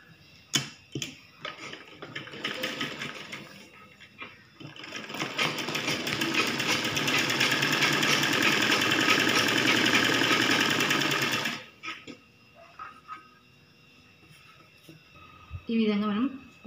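A sewing machine stitches blouse puff sleeves, running in one steady, loud, close whirring burst of about six seconds. Softer handling clicks come before and after, and a person talks between them.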